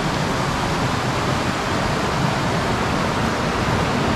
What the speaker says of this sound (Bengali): দারুণ সুন্দরভাবে এখান দিয়ে একটা জল যাচ্ছে